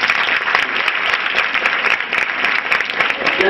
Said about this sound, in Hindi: शाबाश, इसके सम्मान में तालियां बताओ।